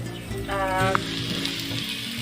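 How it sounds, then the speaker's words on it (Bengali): Khichuri fries in a pan, giving a soft sizzle throughout, with a brief clink partway through and faint background talk. "আমার খিচুড়িটা মোটামুটিভাবে ভাজা হয়ে গেছে।"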